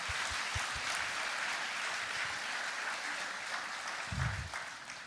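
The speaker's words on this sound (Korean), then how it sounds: "우리 찬양팀을 향해서 정말 힘찬 영광의 박수 올려드리겠습니다" A church congregation gives the worship team steady, full applause at a youth revival service. The clapping sounds like a wash of many hands, with a few low thumps underneath.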